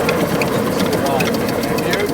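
A small Stirling engine built for a model boat runs on a bench at about 950 RPM, producing a fast, even mechanical whirring and ticking, close by, with voices faint in the background.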